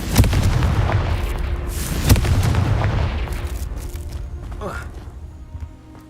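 In the Hogwarts Legacy video game, the Confringo blasting spell sets off loud booming explosions, a big blast at the start and another near two seconds, then a fading rumble under speech.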